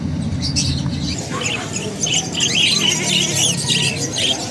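Birds at the Bocaue pet market produce a dense chorus of squawks and chirps over busy market background noise, loud and continuous.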